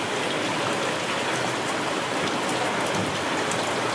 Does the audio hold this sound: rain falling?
yes